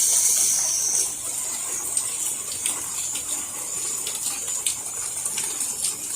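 Water sprays from a hose onto house gutters in the sunshine, a loud steady hiss at the start that eases into a softer, continuous splashing with occasional faint chirps in the background.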